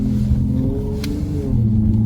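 Dodge Charger with an aftermarket pedal box and a lit engine light revving, a loud steady close engine drone that climbs slightly near the end, no voices.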